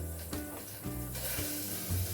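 Cooking oil sizzling in a medium saucepan on a stove for a spinach and potato curry, a close, steady crackling hiss with a few brief clinks, no voices.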